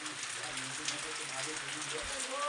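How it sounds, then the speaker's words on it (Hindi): Steady rain falling on a surface, a dense continuous hiss with low tones faintly underneath, no clear talk. "तो ऐसी बरसात लग गई आज।"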